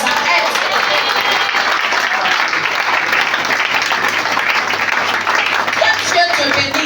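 A church congregation applauding, a dense, steady roar of many hands clapping at close range that fills the whole stretch without a break.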